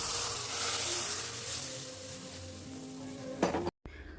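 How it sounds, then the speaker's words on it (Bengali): Ghee spice tempering goes into a simmering pointed gourd gravy, a soft continuous sizzle and hiss that swells near the end with a brief sharp burst before cutting off. The sound is quiet and close, with no talking. "এবার পটলের গ্রেভির মধ্যে ফোড়ন দেব।"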